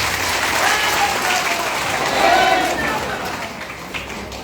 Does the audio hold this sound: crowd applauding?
yes